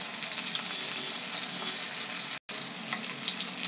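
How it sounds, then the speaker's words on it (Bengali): Teasel gourd pieces fry in a pan with a soft, steady sizzle that stays even and fairly quiet throughout, broken only by a split-second gap, with no talking. "আমার কাঁকরোলটা ভাজা হচ্ছে"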